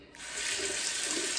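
Water runs from a kitchen or bathroom tap into a sink in a short, steady rush while a razor is rinsed, starting softly and quickly becoming a full, even stream.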